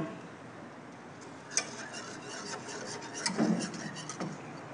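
A spoon stirs panna cotta mixture in a pot while the sugar melts, making a steady, fairly quiet scraping and rubbing with a few slightly louder strokes and no talk.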